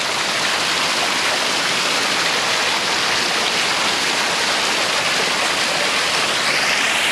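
Rushing water of a waterfall at Thusharagiri, a steady broadband roar that stays constant and close throughout with no pauses.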